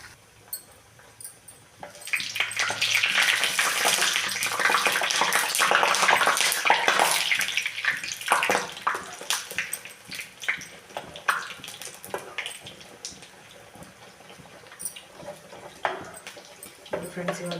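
Bread slices frying in oil in a pan give a loud, steady hiss and sizzle that later breaks into intermittent crackles and clatters, with some talk over it.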